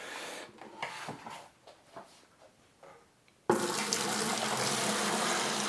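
Liquid is dumped into a cyser fermenter of apple mead, starting with scattered soft splashes and trickles, then turning abruptly into a loud, steady rushing pour that continues to the end.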